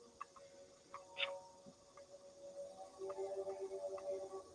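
A chicken clucks softly in a series of low, uneven calls over steady background hiss, faint and fairly distant, growing a little busier toward the end.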